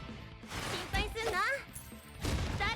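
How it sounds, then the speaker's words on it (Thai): Bomb-placing skill explosions in the mobile game Cat Fantasy: quick bursts and booms with chirpy effect tones, layered under continuous talk. "นี่วางระเบิดแบบนี้เลยนะครับ"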